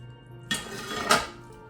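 Food is poured from a pan into a casserole dish, with two brief clattering scrapes of cookware against the dish, close and fairly loud.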